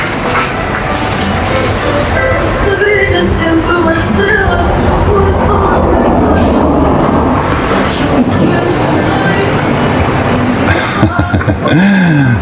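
A tram rumbles and rattles past close by in a Lisbon or Porto street, under busy street noise and people chatting and laughing, ending with a rising metallic squeal.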